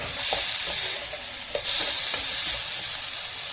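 Ginger garlic paste frying in hot oil and being stirred, a steady loud sizzle with occasional scrapes of a spoon against the pan, no voices.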